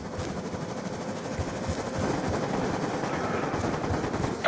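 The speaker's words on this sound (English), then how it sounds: "Friendly stealth chopper inbound." A stealth helicopter flies in during a military shooter video game, a steady dense rotor-and-engine roar holding for several seconds, mixed with bursts of gunfire and battlefield noise.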